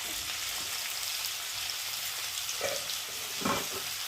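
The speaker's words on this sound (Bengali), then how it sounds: "মশলাটা ভালোভাবে সবজির সাথে কষিয়ে নেব" Spices and vegetables sautéing in a pan for a fish curry with pointed gourd and ridge gourd, with turmeric, chilli powder, ginger, cumin paste and tomato: a steady soft sizzle with a couple of brief stirring scrapes near the end.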